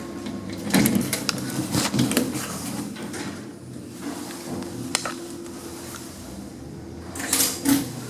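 Lift doors in a shopping-centre lift closing with a few soft sliding thumps and clunks, moderately near, over a quiet hum of the car.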